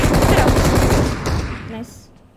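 Automatic gunfire in the PUBG Mobile battle royale game, a loud dense burst of rapid shots that fades in the last second, with players talking over it.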